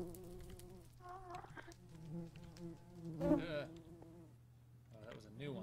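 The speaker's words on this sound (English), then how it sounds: "I'm literally swatting at bees right now." Bees buzz in the Minecraft video game, a steady droning hum with swelling passes close by, while a voice talks over it.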